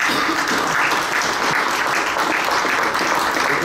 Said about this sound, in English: Let's get a round of applause for Kathy.